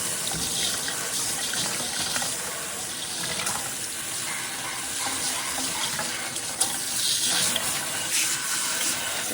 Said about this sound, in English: There's a good amount of water.